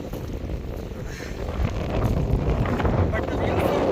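Strong wind buffets the microphone on a cold, sunny mountain trek between Thagnak and Gokyo, a steady roaring gust that builds slightly louder over the few seconds with no other sounds.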